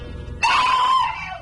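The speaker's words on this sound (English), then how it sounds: "The scream pulled Groves' eyes off me just long enough." A woman's sharp, high scream bursts out in an old-time detective radio drama, loud and sustained for about a second before trailing off, with no talk over it.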